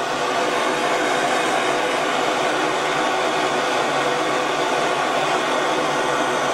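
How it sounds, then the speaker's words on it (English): Gas torch heating precious metal for melting at home, a continuous steady roaring hiss at even loudness throughout, no talk. "this torch is not really good for melt-ups. It takes a long time to get it hot enough to melt"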